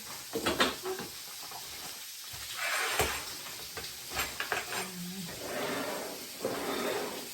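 Sausage sizzles and crackles steadily in a hot frying pan, a continuous close hiss that swells and eases with a few brief louder pops.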